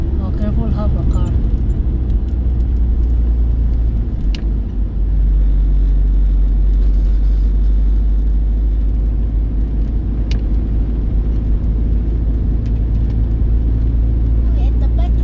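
A car on a dark road gives a steady, loud low rumble of engine and tyre noise that fills the whole stretch, with only a brief dip partway through and faint voices in the background.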